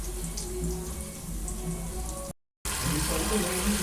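Water is poured into a pan for rice as a soft, close splashing stream, broken by a short silent gap before the pouring resumes.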